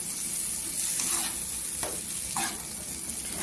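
A hot tempering sizzles steadily in the pan for moong dal varan, a close, even frying hiss with a couple of soft stirring scrapes and no voices.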